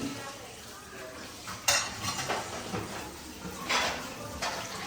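Cooking pots, a karahi and metal serving spoons clatter and clink as they are handed over at a large home dinner in Pakistan, with scattered close knocks and scrapes over a low background bustle.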